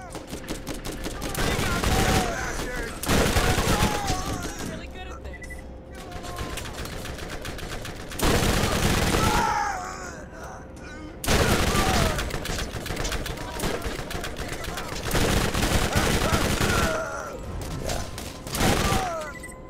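The Bone Shredder, a Tediore submachine gun in Borderlands, fires long loud automatic bursts separated by brief pauses, with rattling shots and impact clatter repeating across the stretch.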